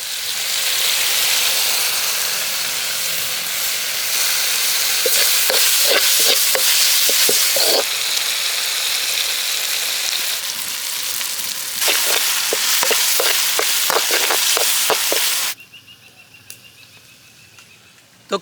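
Sizzling oil with garam masala, chili powder, pepper and turmeric being fried for village-style egg thokku, with a spoon scraping and stirring in quick bursts over a steady close hiss that drops quieter near the end.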